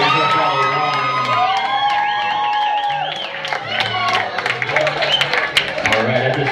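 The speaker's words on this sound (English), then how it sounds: "give a round of applause for Lexi and her fellow" Guests at a wedding reception cheer, whoop and clap, a lively crowd with shouts and scattered applause rising over music and voices.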